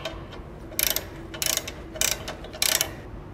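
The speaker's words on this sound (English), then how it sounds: "we can now tighten our mounting bolts" A ratchet tightens the mounting bolts on a PT Max belt trainer, making four short, loud bursts of rapid clicking, each about a quarter second long and evenly spaced over a low background hum.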